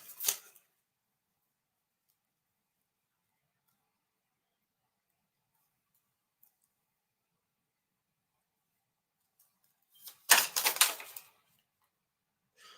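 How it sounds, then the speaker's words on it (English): A deck of playing cards is shuffled during a live reading, two brief bursts of riffling papery clatter, a short one at the start and a longer one near the end, separated by long silence. "I started shuffling these cards, Michael"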